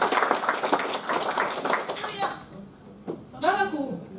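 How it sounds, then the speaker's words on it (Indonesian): A brief burst of congregational clapping during an online church service ends after about two seconds, and a voice follows in the quieter remainder. "Berikan tepuk tangan yuk."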